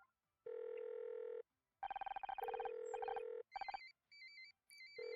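A telephone number is dialed in the detective puzzle game Murder By Numbers, heard as a series of clean electronic tones of varying pitch, some long and some in quick pulsing bursts, ending with short chirping beeps.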